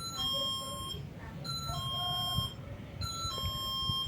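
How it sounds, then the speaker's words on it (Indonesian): Solar-powered touch sensor doorbell chiming in three repeated electronic tone sequences, each a short melodic phrase of bright notes, moderately loud over a rumbling background. "Ini adalah bel tenaga surya"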